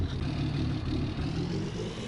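A truck engine idles steadily on a hay farm, a loud, even low rumble heard close with no talking.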